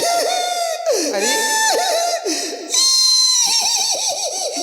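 A performer's voice imitates a donkey braying during a comic Ramlila stage show, giving loud, wavering, repeated cries that rise and fall with a strained, whinny-like quality.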